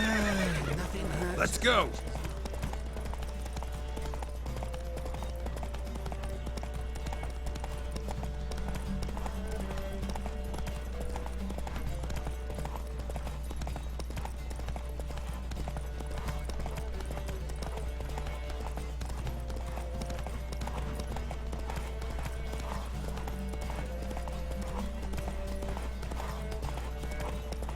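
A horse in The Witcher 3 neighs sharply at the start, then hooves clip-clop steadily at a gallop for most of the stretch over a constant low rumble, with a voice speaking briefly.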